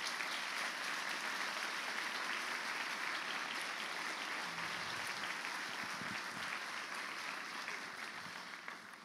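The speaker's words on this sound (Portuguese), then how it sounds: "Vamos oferecer a Deus a nossa melhor salva de palmas." A church congregation gives a sustained round of steady applause, even and continuous, before fading away at the end.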